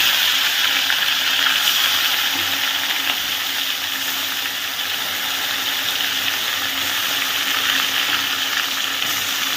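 Koi fish frying in oil in a pan over low heat, a steady loud sizzle and crackle that holds evenly throughout with no talking.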